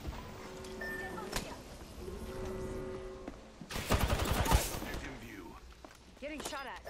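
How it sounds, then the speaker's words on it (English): Gunfire in a solo Apex Legends match, with scattered shots early on and then a loud, dense burst of rapid fire in the middle, followed by a few more sharp reports. Game sounds fill the gaps between the bursts. "Getting shot at."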